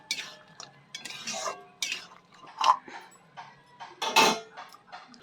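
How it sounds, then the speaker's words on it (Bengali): A pot lid lifted and food stirred while cooking: uneven metallic clinks, scrapes and knocks of a spoon against a pan, close by, coming in short clusters with brief pauses between them. "আবার ঢাকা খুলে একবার করে নাড়ব।"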